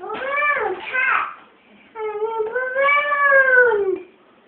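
A voice cries out in long, wavering, meow-like tones, two drawn-out calls close by with a short pause between; it may be a voice imitating a cat rather than a real cat.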